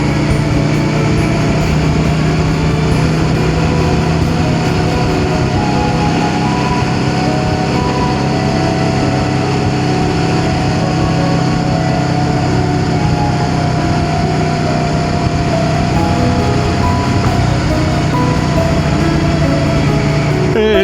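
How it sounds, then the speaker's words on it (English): Steam train running through the mountains near Eskdale, a steady loud rumble of wheels and machinery carrying on without a break from start to finish, with no voices. "a sit on a steam train going through the mountains is a wonderful way to spend an afternoon"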